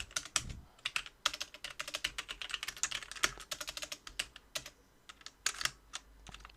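Rapid, irregular keystrokes on a computer keyboard, close and crisp, in dense bursts with short pauses between them, alone with no talking.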